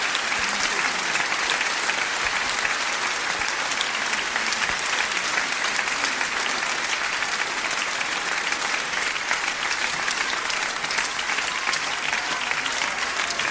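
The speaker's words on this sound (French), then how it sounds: "je vous demande de les applaudir" Concert audience at the Olympia in Paris giving long, steady applause, a dense continuous roar of many hands clapping at even loudness throughout, with no one speaking.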